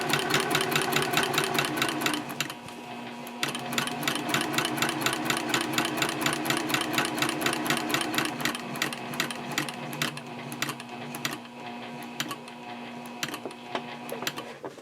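A sewing machine stitches a quilted A5 journal cover at a 3.5 stitch length, its rapid mechanical chatter running close and steady with a brief pause before resuming.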